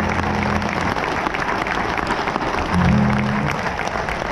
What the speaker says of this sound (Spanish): por eso pido un fuerte aplauso para todos ellos